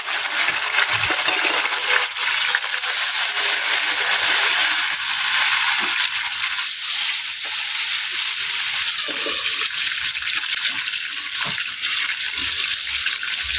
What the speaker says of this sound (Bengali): এখানে আমি রসুন কুচি দিয়ে দেব